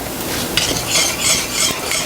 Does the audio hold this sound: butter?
yes